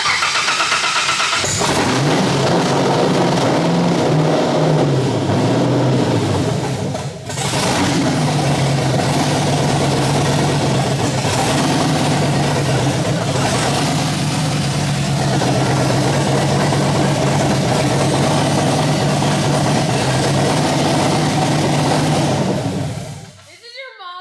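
A loud LS3 V8 swapped into a Pontiac Solstice fires up and revs hard through a small exhaust, a steady heavy engine roar running nearly the whole time with a brief dip, while excited voices talk and shout over it.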